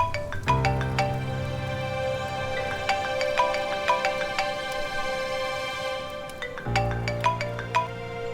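A phone rings in a Hindi TV drama scene, as a looping electronic ringtone of repeated bright tones plays steadily and fairly loud with a low drone beneath, pausing briefly before starting again, with no talk.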